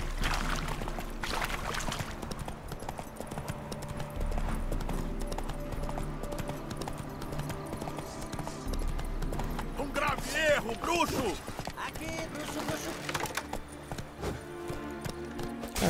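Horse hooves gallop in a steady, rapid clip-clop during horseback combat in The Witcher 3: Hearts of Stone, running throughout amid other game sounds and music, with voices at times.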